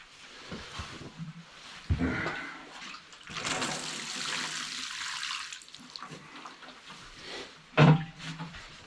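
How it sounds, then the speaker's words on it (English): Water poured over potted plants in a greenhouse, a broad splashing wash running for several seconds with brief gaps and a sharper splash near the end, fairly close. "Give this a good water."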